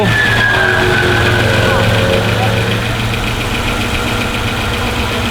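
A Datsun 280ZX fitted with a 350 Chevy V8 drag-racing engine idling loudly up close, a rough, lumpy, steady rumble with slight tonal whine, with voices talking over it.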